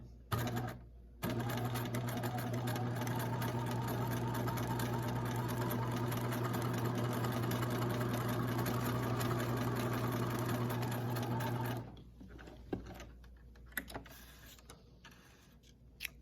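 A sewing machine running a long continuous row of stitching for gathering, a steady close mechanical whir lasting about ten seconds before it stops and gives way to faint handling noises.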